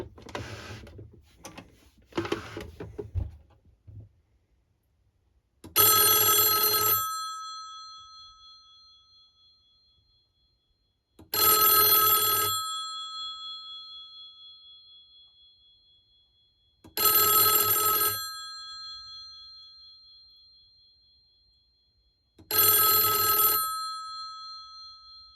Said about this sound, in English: now I will ring the phone